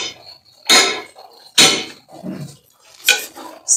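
A large pot of Karo-style pumpkin and coconut milk curry is stirred, a utensil scraping and clanking against the pot in three bright, loud strokes with quieter shuffling between.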